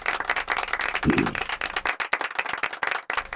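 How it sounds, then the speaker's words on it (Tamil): Applause from a Tamil pattimandram debate audience for speaker Neelaveni at a New Year event, a dense steady clapping that fills the short stretch on its own. "நீலவேணி அவர்களுக்கு கரகோஷம் கொடுத்து"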